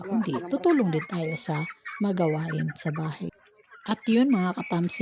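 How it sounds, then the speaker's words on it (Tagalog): Turkeys and chickens calling on a backyard farm, clucking and gobbling faintly behind someone talking steadily in the foreground. "yung mga pabo namin, napakaingay."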